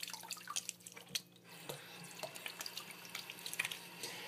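A vintage razor rinsed under a running tap, faint trickling water with small drips and light clinks against the sink, close and quiet, with no one speaking.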